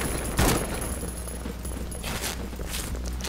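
Gunfire in the shooter A.W.O.L., one loud close shot near the start followed by a dense, steady wash of distant firing and battle noise.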